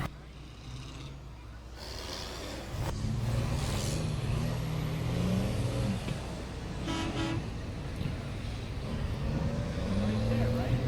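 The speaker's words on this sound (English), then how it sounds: "Are y'all ready to see school bus figure eight racing?" School buses, including a couple of short buses, roar through a figure-eight race at Auburndale Speedway, with loud continuous engine rumble, horn toots and hissing air brakes, and crowd voices and commentary mixed in.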